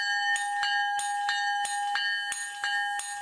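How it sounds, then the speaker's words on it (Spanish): A bell at a train station rings in a steady series of about ten bright metallic strikes, each one ringing on into the next, loud and close with no talking. "Cuando la campana sonó"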